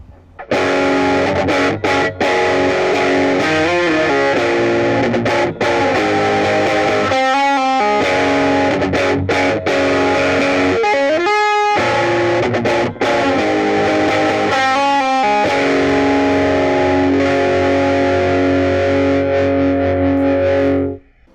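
An electric guitar through an overdrive pedal plays loud crunchy chords and riffs, with gritty distortion sustaining throughout and no voices.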